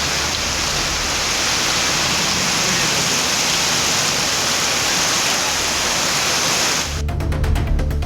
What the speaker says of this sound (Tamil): இடி மின்னலுடன் கூடிய கனமழை பெய்தது